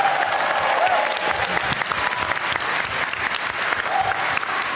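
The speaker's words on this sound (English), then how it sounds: "I'm going to have a special round of applause for Ryan Parrott." A live audience applauds steadily for Ryan Parrott at a Shattered Grid table read, a dense, even wash of clapping that fills the whole stretch without letup.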